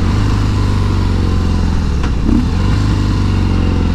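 A 2017 Harley-Davidson CVO Breakout engine braking on a test ride: a loud, steady low throb from the V-twin as it slows, with a brief rising whine in the middle and no voices.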